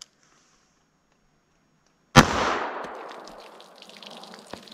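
.38 Special snub-nose revolver firing a semi-wadcutter: one sharp, loud shot cracks out of near silence, then a short echoing tail trails off, with a few faint clicks after it.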